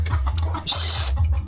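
A chicken clucks close by, a few short clucks followed by a louder, higher squawk, with faint background noise and no talking.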